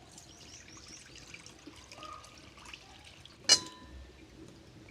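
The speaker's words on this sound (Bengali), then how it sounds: "এবারে দুধটা আমি ছেঁকে দিয়ে দেব" Cow's milk strained into a pan on the stove, heard as faint, close trickling and dribbling with one sharp clink partway through, no speech.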